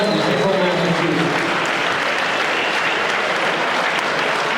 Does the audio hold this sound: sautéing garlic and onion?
no